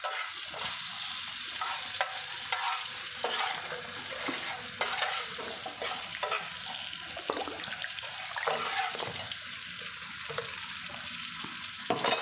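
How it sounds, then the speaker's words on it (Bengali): Taro pieces being sautéed with spices for a Bengali hilsa fish curry, a loud continuous sizzle of frying with repeated stirring strokes through the pan, close and uninterrupted. "এটাকে একটু ভালো করে আমি কষিয়ে নেব।"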